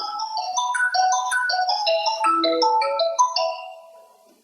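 A mobile phone ringtone for an incoming call plays a bright, steady electronic melody of stepped tones for several seconds, fairly close and alone, fading out at the end.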